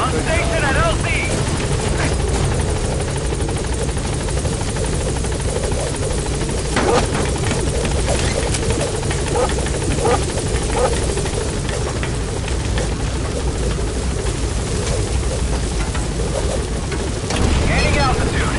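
A support helicopter in Metal Gear Solid V hovers at the landing zone, its rotor chop and turbine roar steady and loud for the whole stretch. A radio voice talks over it now and then.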